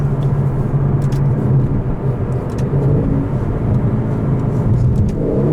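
A 2018 Aston Martin DB11 V8 accelerating hard, its engine a loud, steady, deep rumble with a rising growl that continues without pause and carries no speech.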